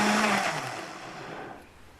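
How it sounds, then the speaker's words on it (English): A blender runs on variable speed, chopping a jar filled to the top with heirloom tomatoes: a loud whirring motor that strains at first, then settles into a steadier, slightly fading grind, with no talking over it. "I have my heirloom tomatoes just filled to the top in my blender. So I have it on variable speed"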